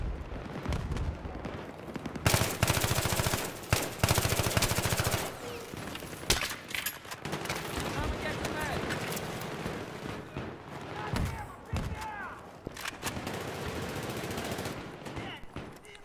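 Sustained automatic gunfire in Battlefield 3 close quarters team deathmatch, with rapid loud bursts and overlapping shots running almost continuously, while other game sounds clutter the mix.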